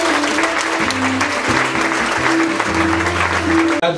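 A church congregation applauds loudly and steadily in a worship hall, with sustained clapping mixed with voices and a low musical drone beneath.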